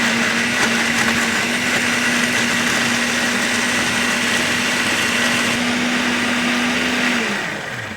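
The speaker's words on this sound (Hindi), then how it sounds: "और अब इसे कंप्लीटली हम ब्लेंड कर लेंगे।" Curd whirred into vegetable gravy in an electric blender: a loud, constant high-pitched motor drone with a steady tone that holds for several seconds, then spins down and fades near the end.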